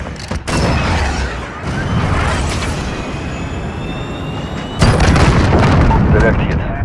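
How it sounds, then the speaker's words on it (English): A cruise missile strike in a military video game lands amid continuous rumbling booms and gunfire, with voices talking over the din before one loud, heavy explosion erupts near the end. "Cruise missile away."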